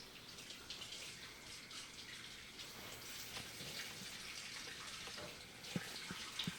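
Tap water runs steadily into a cup at a kitchen sink while preparing a pumpkin pie, a soft broadband hiss heard fairly close with a few small clinks near the end.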